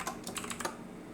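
Quick computer keyboard keystrokes for a copy and paste shortcut: a short burst of about six close, crisp clicks in a light irregular rhythm, alone in a quiet room.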